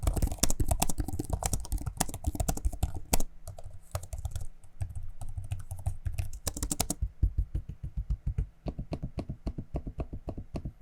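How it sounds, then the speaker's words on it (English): Fast, clattery typing on an MSI Raider GE68HX laptop keyboard, heard close and alone, with a short stretch of quieter trackpad clicks and taps in the middle before the rapid keystrokes return. "here's a quick audio sample of me using the keyboard and trackpad so you can hear what that sounds like"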